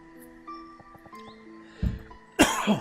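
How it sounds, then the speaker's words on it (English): A single sharp, dry-throated cough bursts out near the end, followed by a short rough throat sound, after a quieter stretch of faint background noise. "Pardon the cough, my throat is very dry."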